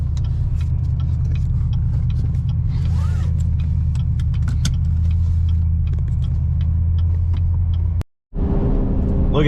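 A Crown Victoria rolls down the road at about 60 mph, its engine holding near 3,000 RPM as a loud, steady low rumble that continues unbroken, with a brief dropout just before the end.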